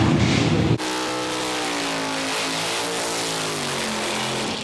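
A BHT Super Sedan drag racing car at a dial-your-own class event: a loud burst, then a sustained, close, roaring engine drone whose pitch sags slightly as it holds.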